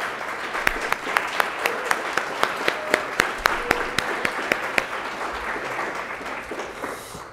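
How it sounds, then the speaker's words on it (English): An audience at the NACIS lunch and business meeting applauds a recognized Atlas of Design team, with steady, moderately loud clapping from many hands in a large room, individual sharp claps standing out before fading near the end. "please stand up so you could get a round of applause"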